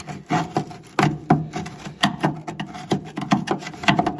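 Old sealer is scraped off around trim clip mounts on a bent Alpine car body, producing close, rhythmic rasping strokes roughly every half second with sharp scratchy onsets and no talk.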